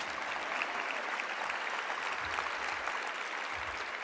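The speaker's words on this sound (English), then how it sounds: "And that deserves a clap." Steady applause from a university convocation crowd, a dense even patter of clapping that holds at constant strength for a few seconds.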